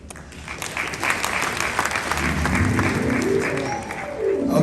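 Applause from the guests at a wedding ceremony, steady and fairly loud throughout, swelling slightly toward the end with a few voices mixed in.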